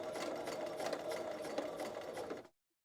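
Sewing machine running continuously while stitching basted fabric for a garment sleeve, a steady close whir with rapid needle pulses throughout, stopping abruptly near the end.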